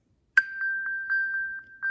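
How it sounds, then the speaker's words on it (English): A phone sounds its find alert after a tap on an Apple Watch Series 5: one bright ding, then a steady ringing tone pulsing about seven more times in an even rhythm, clear and alone in a quiet room. "there's this little handy button where if you just press it, your phone will sound."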